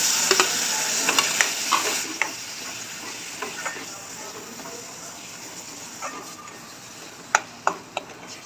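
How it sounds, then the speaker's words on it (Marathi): Crab curry masala with garam masala sizzles continuously in a pan as a spoon stirs it, with a close hiss broken by sharp clicks of the utensil against the metal. "सगळं छान प्रकारे मिक्स करून घेऊया"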